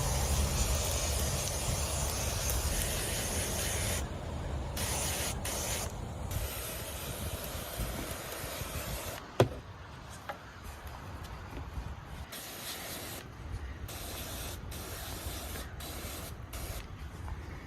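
Gravel glue is sprayed onto pavers in long, steady hissing passes with brief interruptions, fairly close and moderately loud, with one sharp knock midway.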